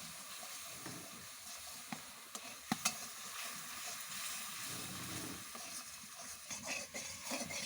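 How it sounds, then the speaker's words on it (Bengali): Spices fry gently in a pan, giving a soft, steady hiss and sizzle broken by a few sharp clinks and stirring scrapes close by. "এবার সব মশলাগুলো ভালো করে সাঁতলে নিতে হবে।"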